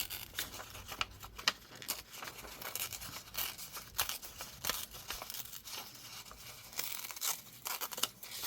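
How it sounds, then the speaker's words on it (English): Paper is torn by hand in a series of dry, rasping rips for a fall-themed junk journal embellishment, close and fairly steady with brief pauses between pulls. "So let's tear another piece here."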